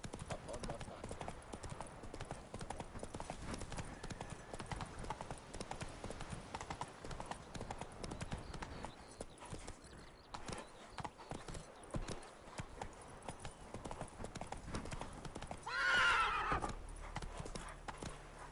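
Horse galloping in The Witcher 3 on PS5, a fast, steady clip-clop of hooves running throughout, capped near the end by a loud neigh, with voices speaking over it.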